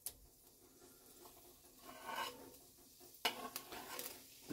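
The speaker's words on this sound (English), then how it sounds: "I'm just going to saute the shallots" Shallots are sautéed in a pan for baked eggs at breakfast: soft, faint stirring and scraping with a light sizzle, broken by a few sharp utensil knocks against the pan.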